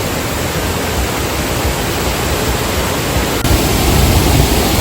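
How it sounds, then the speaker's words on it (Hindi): Dhuandhar waterfall at Bhedaghat, Jabalpur, with water plunging over marble rocks in a steady, loud, broadband roar that fills the whole stretch without pause, no voices over it. "इस समय ये जो गिरता हुआ पानी है और इसका शोर, वाह।"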